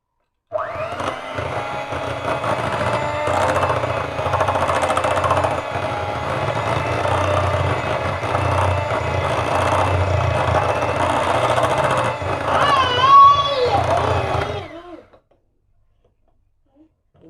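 An electric mixer beats butter for cookie dough in a bowl, a loud, steady motor whir that runs continuously for about fourteen seconds before cutting off into silence.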